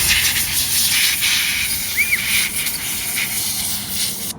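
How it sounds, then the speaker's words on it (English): A can of compressed air blows out the fans of a Dell XPS laptop, producing a loud, continuous airy hiss with slight pulses throughout and no voices. "so we're gonna use a can of compressed air from Office Depot."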